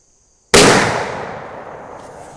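A single loud, close muzzleloader shot firing a Federal BORLOK bullet at a shooting range, a sharp sudden blast with a long decaying ring that fades over two seconds, no voices.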